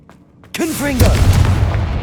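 Confringo fire spell blasting in Hogwarts Legacy, a sudden loud burst with a whooshing sweep followed by a rumbling, crackling explosion that carries on under game voices.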